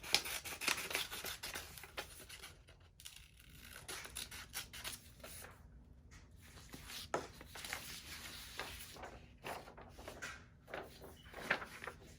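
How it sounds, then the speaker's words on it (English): Scissors snip through regular printer paper photo decals for a tumbler, a faint series of close, irregular cutting and paper-rustling sounds in a quiet room. "So I'm just cutting out my pictures."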